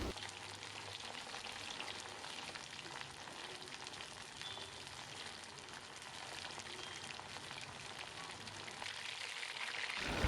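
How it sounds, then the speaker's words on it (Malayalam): Pieces of chicken deep frying in hot oil over a medium flame for a Kerala-style chicken fry, giving a dense, steady crackling sizzle that fills the whole stretch without pause, close and even. "ചിക്കൻ ഫ്രൈ ചെയ്യുമ്പോൾ അത് കരിയാതെ സൂക്ഷിക്കുക"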